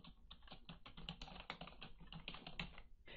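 Typing on a computer keyboard, with a steady run of quick, light key clicks that are close and fairly quiet, and no talking.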